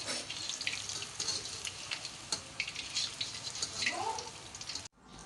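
Fish frying in hot oil in a home kitchen, a steady crackling sizzle with bursts of spitting, close and fairly loud, ending abruptly.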